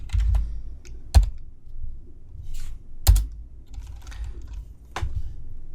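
Keys tapped on a computer keyboard in short irregular bursts, with a few louder sharp clicks standing out over a quiet background, heard alone and fairly close.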